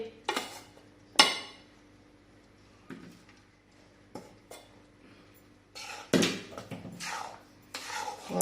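Besan (gram flour) being stirred and roasted in ghee in a kadhai over medium heat: intermittent scraping and clinking of a spoon against the metal pan, a few sharper knocks, with quiet gaps between strokes and no talk.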